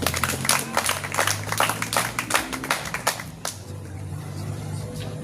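A church congregation claps for the Lord in dense, loud applause that rises and pulses for about three seconds, then stops abruptly, leaving a quiet room tone.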